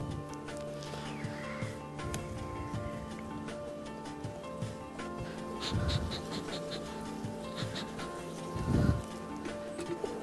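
Bees buzz steadily nearby at an open hive, a dense droning hum with some louder passes and clatter as frames are handled.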